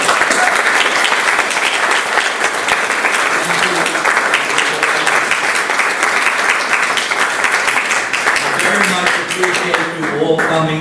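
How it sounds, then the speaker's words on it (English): A library event audience gives a long, steady round of applause for Alexander, an art conservator, with dense clapping filling the room throughout and a voice faintly emerging near the end. "Big round of applause for Alexander."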